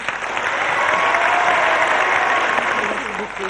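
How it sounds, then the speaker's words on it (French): Studio audience applause on a 1983 French TV game show, a dense, steady wash of clapping that holds loud for about three and a half seconds before easing slightly, with some background voices faintly underneath. "Marie-Noël et Michel, que vous pouvez encore applaudir."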